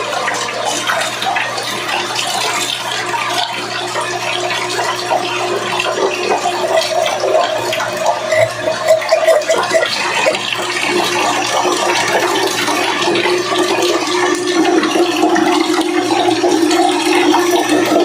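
An electric water pump, freshly primed, runs steadily while water gushes and splashes nearby, a continuous loud flow with a faint motor hum underneath.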